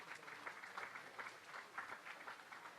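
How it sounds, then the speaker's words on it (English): Faint, distant audience applause at a gala dinner in Toronto, an even patter of many hands lasting a few seconds. "Round of applause for 32 over there."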